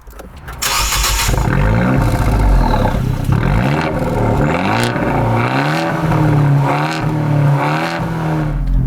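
An Abarth 124 Spider engine starts and revs with a throaty sporty exhaust, rising and falling in pitch through several blips, loud and close.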